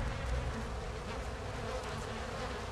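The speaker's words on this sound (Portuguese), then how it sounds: "O carnaval das moscas." Swarms of flies buzz steadily around bodies in a dark area of the horror video game Outlast 2, a continuous dense insect drone that stays fairly quiet and even throughout, with no voices.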